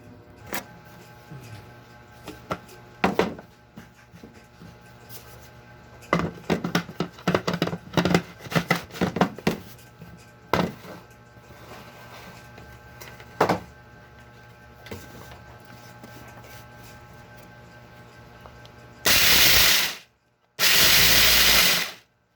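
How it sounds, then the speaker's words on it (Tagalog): Barako coffee beans being ground in a home grinder that is not suited to them, irregular bursts of rattling and crunching followed by two loud sustained grinding runs near the end, no talking. "Kapeng barako. Gilingin natin."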